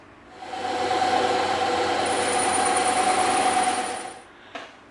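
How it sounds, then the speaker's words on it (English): A bandsaw cuts through EVA foam with a steady, loud mechanical whine that rises, holds for several seconds, then winds down, followed by a brief clunk, with no talking. "Now we know that's where we're gonna be cutting on the bandsaw."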